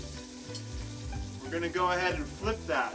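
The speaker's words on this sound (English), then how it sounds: "You can hear it sizzling." Salmon sizzles and crackles steadily in a hot pan while someone talks over it, the frying noise continuing beneath his voice.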